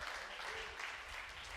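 A church congregation applauds, a dense, steady wash of clapping from many hands that holds at an even level throughout.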